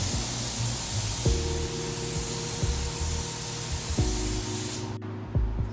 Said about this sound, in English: just getting the last coat of clear before we take these home and polish them